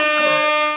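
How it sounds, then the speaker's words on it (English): An air horn sound effect, a single loud, bright, sustained blast lasting under a second and heard alone. "Where's my sound effect? Where's my air horn?"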